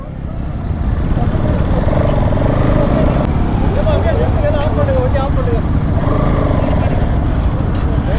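A steady, loud engine rumble from motorcycles, with Bajaj NS200 bikes on a rally near Ooty, runs throughout the clip from close range while people talk over it.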